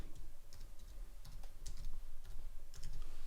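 Keystrokes on a computer keyboard entering a hash sign and a node name in panorama software, a sparse run of light clicks at close range over a low steady hum, with no voices.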